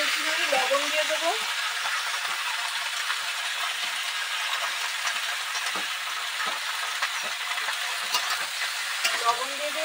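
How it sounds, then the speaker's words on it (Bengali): Cut potatoes are stirred as they fry in a pan, a steady close sizzle broken by repeated scrapes and taps of the spoon against the metal, with a voice at the start and end. "একটু নাড়িয়ে চাড়িয়ে এর মধ্যে একটুখানি লবণ দিয়ে দেবো।"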